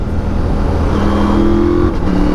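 A Norden 901 adventure motorcycle with a quick shifter runs loud and close, its engine note dropping and shifting pitch as it downshifts.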